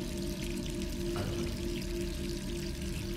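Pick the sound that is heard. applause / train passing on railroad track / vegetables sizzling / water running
water running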